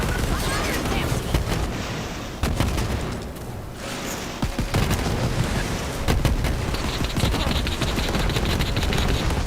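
Dense gunfire and a grenade blast in the Borderlands 3 video game: rapid overlapping shots and booms fill the clip, loud and continuous with brief lulls.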